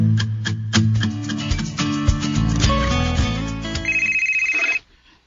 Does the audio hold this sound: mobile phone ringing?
yes